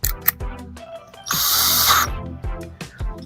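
A power drill with a Phillips bit drives screws into an electrical outlet box, a loud steady whir of about three-quarters of a second standing out between surrounding clicks and handling knocks.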